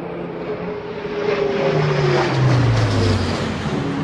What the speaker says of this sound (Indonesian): Nomor 2, pesawat angkut A400M.